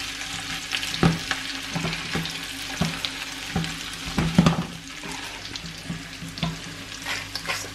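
Sliced potatoes sizzle steadily as they fry in melted butter in a frying pan, with a constant hiss broken by scraping and stirring clatters against the pan.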